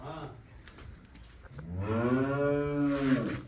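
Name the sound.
cow mooing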